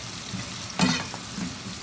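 Tomato cubes drop into a pan of sizzling onion, garlic and pepper, with a brief burst of hissing as they land. A steady gentle frying follows, fairly quiet and with no voices.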